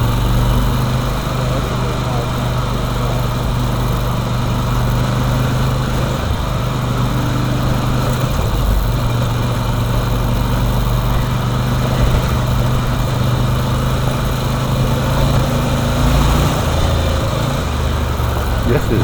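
Ducati Desert Sled motorcycles climbing uphill toward Custer's Peak on a rough, bouncy route, their engines droning steadily and loudly throughout with constant wind and road rumble.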